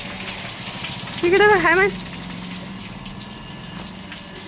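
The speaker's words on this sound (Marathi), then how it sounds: "पाणी आलंय, पाणी भरायचं काम चालू आहे." Water gushing steadily from a supply line or motor-driven pump as household containers are filled, a continuous rushing flow throughout, with a brief spoken remark partway through.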